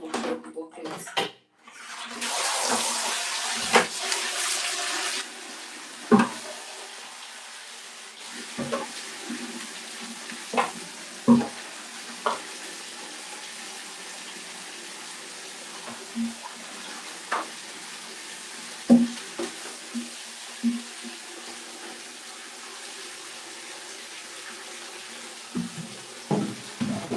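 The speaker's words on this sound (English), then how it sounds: "So I'm going to just wash off the bucket." A bucket being washed out with running water, a steady rush of water at first and then quieter trickling with scattered knocks and splashes, close by and with no talk.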